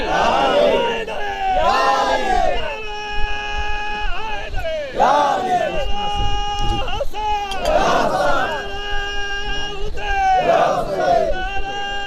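A large crowd at a religious gathering shouts "Ya Ali" together in answer to the Nara-e-Haidari call, loud chanted waves of massed voices rising and falling several times, close and echoing.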